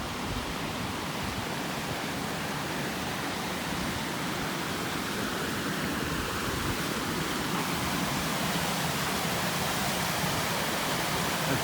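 Rushing river water near Abol Bridge in Baxter State Park, a steady, loud broadband roar of flowing current that holds constant from start to finish without pause, close by and with no voices.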